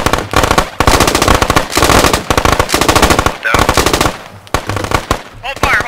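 Rapid machine gun fire in the Squad Ops tactical shooter game, long loud bursts of dense repeated shots with brief pauses between them, close and dominant.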